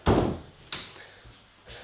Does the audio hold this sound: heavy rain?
no